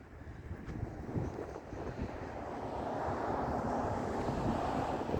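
Wind blusters across a microphone outdoors on a windy day in Florida, a continuous low rumbling roar that swells and grows steadier and louder toward the end, with no talk.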